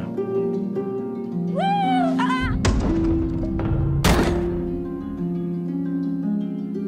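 A solid thunk like a door shutting, heard alongside background music and a brief voice.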